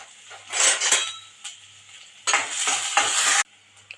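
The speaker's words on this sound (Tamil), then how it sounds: "இப்போ இதை வதக்கி விட்டுக்கலாம்." A spoon stirs and scrapes through onion, green and dried red chillies and urad dal sautéing in a pan, with gentle sizzling and metallic clinks in two close bursts, no voices.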